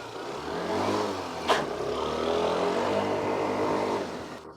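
An Aprilia SR 125 GT scooter engine runs while riding, with a smooth, steady mid-level drone holding an even pitch throughout and one brief sharp click partway through.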